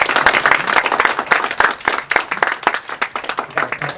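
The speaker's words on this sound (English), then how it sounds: "Let's give these students a round of applause" A room audience claps for students at a community engagement event, a dense burst of applause from a modest crowd that is close and loud, with rapid overlapping hand claps and no talking.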